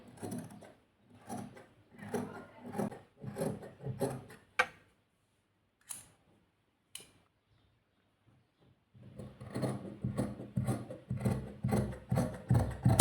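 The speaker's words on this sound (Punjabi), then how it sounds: "ਪਹਿਲਾਂ ਆਪਾਂ ਫਰੰਟ ਕੱਟ ਜਿਹੜੀ ਉਹਦੀ ਕਟਿੰਗ ਕਰਾਂਗੇ" Shears cut the front piece of fabric for a simple suit, sounding as clusters of close, crisp snips with a quiet pause midway before a steady run of cuts resumes.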